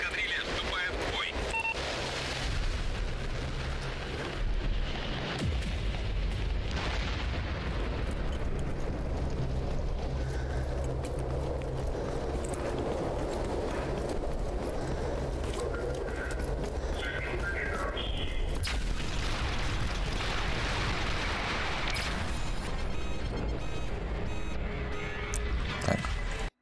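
Heavy sci-fi combat in Orange Cast, with repeated grenade blasts and gunfire bursts forming a dense, loud, continuous barrage of booms and crackling over a constant rumble.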